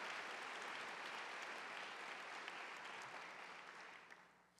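An audience at a fall convocation breaks into steady, dense applause that holds evenly before gradually tapering off, heard alone without voices.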